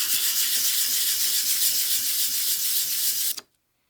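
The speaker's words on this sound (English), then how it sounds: "I'm going to be able to just use the Charlesworth technique and sort out this bevel" A Stanley spokeshave blade bevel is honed with the Charlesworth technique, making steady, rhythmic close scraping strokes of steel rubbing on an abrasive surface for about three and a half seconds before stopping abruptly.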